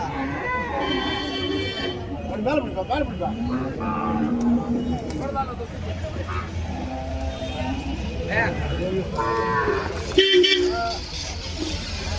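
Cattle low at a busy rural cattle market in Uthangarai, Tamil Nadu, with the mooing half buried under constant talk, crowd noise and passing vehicles.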